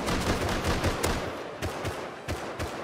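Gunshots in Rust crack out over a noisy firefight, several distinct loud reports spaced irregularly across the span amid continuous rumbling background.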